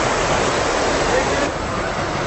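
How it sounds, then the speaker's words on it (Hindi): A tall mountain waterfall roars in a dense, unbroken rush of white noise, loud and close, with no pause through the short stretch. "पहाड़ हैं, ऊंचे ऊंचे झरने हैं।"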